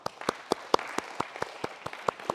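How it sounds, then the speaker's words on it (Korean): Church congregation at a Sunday worship service gives a short round of encouraging applause, sparse distinct hand claps in a steady rhythm, fairly faint and alone. "우리 세 분에게 격려의 박수 하겠습니다."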